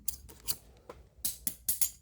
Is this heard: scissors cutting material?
yes